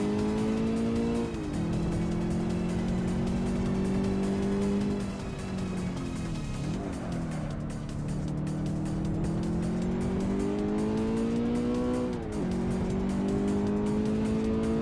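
Rear-wheel drive racing car in the Assetto Corsa sim, its engine droning steadily and loudly throughout with pitch dips and climbs at gear shifts, tires hissing underneath.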